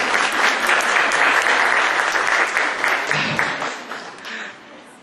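Audience applause fills the space, with dense steady clapping from a sizeable crowd that holds strong for several seconds and then gradually thins and fades toward the end.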